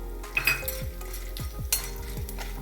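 Edible gum frying in oil in a pan, a low bubbling sizzle under repeated clinks and scrapes of a metal spoon against the pan, close and moderate.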